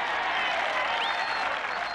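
A golf crowd at the 18th green of the 1985 Open Championship breaks into sustained applause and cheering, a loud, dense wash of clapping that holds steady throughout.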